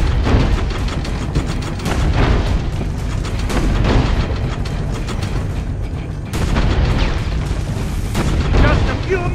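Heavy tank cannon shots in the Assassin's Creed Brotherhood video game, loud booming blasts and continuous battle rumble with scattered impacts throughout, under game voices.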